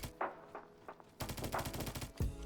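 MP5 submachine gun fire in the Roblox game Bad Business, with a few separate single shots at first, then a dense rapid burst, and a heavy final blast near the end, all loud and close with no talking.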